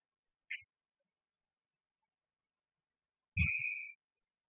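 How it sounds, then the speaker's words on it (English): A referee's whistle at a college ice hockey game sounds once briefly and faintly, then gives a longer, louder sustained blast with a thump at its start, with near silence in between. "And he'll hold it for a whistle."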